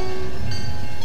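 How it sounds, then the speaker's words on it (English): A train sounds a loud, close tonal horn at a crossing in downtown Dartmouth near waterfront condos, over a low rumble of rolling rail cars. The blast is brief and sustained, and no voices are heard. "Some downtown Dartmouth residents say train whistles are keeping them up at night"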